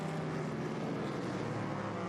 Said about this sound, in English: Wow, and the sound of those specials going by the way.